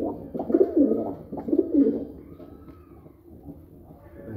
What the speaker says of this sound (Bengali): মা দিকে ডাকতেছে ডিমের জন্য